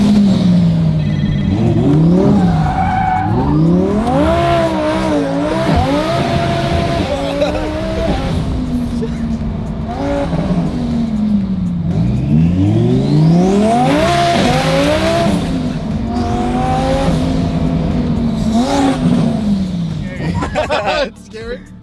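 Lamborghini race car with a new engine said to make around 1,000 horsepower, revving loudly through repeated rising and falling sweeps with occasional tire squeal, under continuous excited talk throughout.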